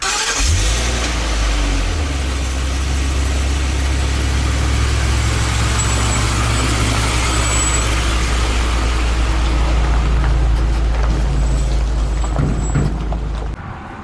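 A 2016 Ford F650 crew cab dump truck runs with a steady, loud, low diesel engine drone close by, holding an even idle-to-rev hum for the whole stretch before cutting off at the end.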